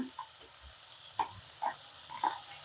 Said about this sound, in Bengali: দিয়ে মশলাটা জাস্ট ভেজে নিয়েই আলুটা দিয়ে দিচ্ছি।